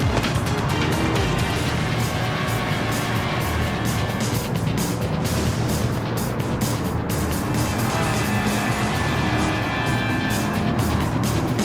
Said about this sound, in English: We are on board with Satsuna Suiseki in her fake Chaser LM race car, I mean Toyota Crown.